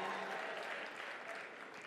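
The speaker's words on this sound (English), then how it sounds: "clap more, please. Clap more." A conference audience at a Merck Foundation Africa Asia Luminary meeting applauds, a broad steady wash of many hands clapping that stays loud and fades slightly toward the end.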